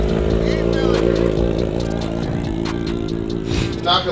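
A Honda Fireblade motorcycle engine revs at a Daytona track day, its close, loud, throaty note pulsing and rising, with a short dip and burst at the end.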